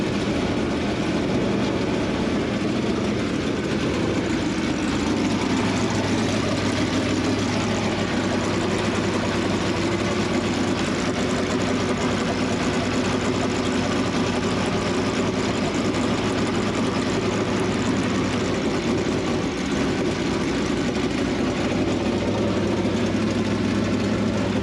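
An engine idles through its exhaust header in a garage project, a loud, steady low rumble held for the whole stretch with no voices over it.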